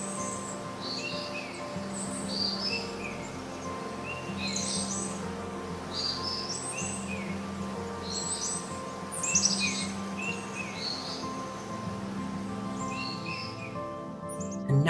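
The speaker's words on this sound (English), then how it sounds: "As you walk, you hear the forest birds high in the trees singing" Forest birds sing high in the trees, trading bright, repeated chirps and trills over a soft, steady droning background throughout.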